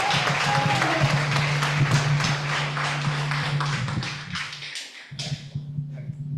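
Congregation in a church giving applause to the Lord during a morning service, a broad crackle of many hands over a low sustained tone, thinning and dropping out briefly before resuming.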